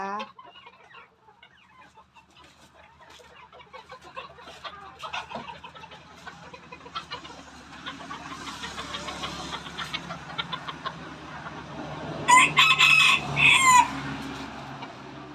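Chickens cluck and roosters crow among pairs of farm birds released together, a steady flock murmur building to a loud close crowing burst near the end.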